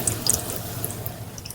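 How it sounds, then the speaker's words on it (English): Water gushes and bubbles up out of the ground at a new-build home, heard as a continuous close trickling and splashing with small drips and bursts, moderately quiet, with no one talking. "You can see it pumping and it's bubbling out of the ground, straight from the ground."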